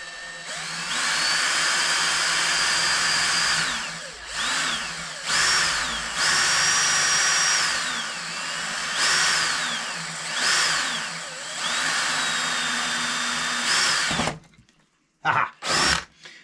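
A power drill whines steadily through long bursts, its pitch dipping and rising as it bites, with brief pauses between runs, close and loud.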